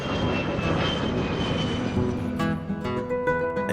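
A fixed-wing airplane engine drones steadily and loudly throughout, a continuous close hum with tonal whine, with no talking over it.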